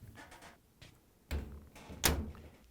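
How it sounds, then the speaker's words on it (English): The door of a Hotpoint dryer is pushed shut, making two dull, close thumps a moment apart in a quiet room. "And now we can close the door."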